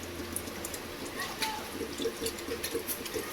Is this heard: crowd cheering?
no